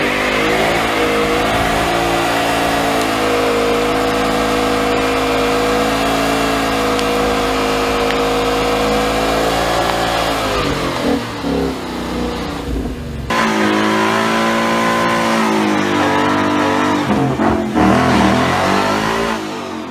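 A Ford Mustang GT convertible's V8 engine revs hard and holds high RPM, dips briefly, then climbs again in loud, close, sustained bursts of engine roar without any talking.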